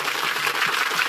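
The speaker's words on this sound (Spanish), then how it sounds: "vamos a darle un fuerte aplauso al trabajo de Morgan" Audience applause for Morgan's genetics work at a lecture on evolution, a short, dense wash of clapping from many hands, even and sustained with no voices on top.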